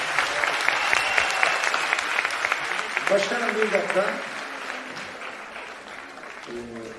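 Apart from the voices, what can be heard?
applause for the stage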